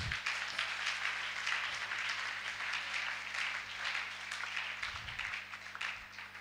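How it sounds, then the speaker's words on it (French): Applause from a church congregation at a French-language worship gathering, a steady wash of many hands clapping at moderate distance for several seconds, with faint low hum and a few muffled voices underneath. "Acclame, acclame, acclame, acclame."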